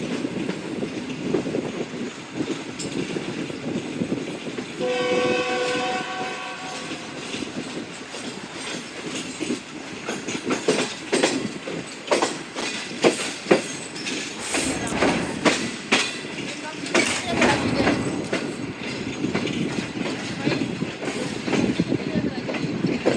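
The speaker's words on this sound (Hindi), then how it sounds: "34 डाउन पार्क बिजनेस एक्सप्रेस अभी तक नहीं पहुंची, उससे पहले ही हमारा 11 अप हज़ारा एक्सप्रेस से क्रॉस है, रादर ओवरटेक" Heard from on board the Shalimar Express in Pakistan, the Hazara Express passes on the next track with loud, continuous rumble and rapid clickety-clack of wheels over rail joints. A horn sounds briefly early on.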